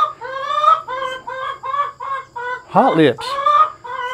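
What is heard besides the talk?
chickens clucking in a coop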